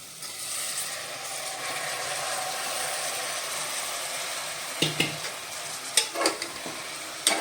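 Soaked basmati rice is sautéed in a pan for veg biryani, a steady dry sizzling stir that continues throughout, with a few sharper scraping knocks of the spoon near the end, close and without speech.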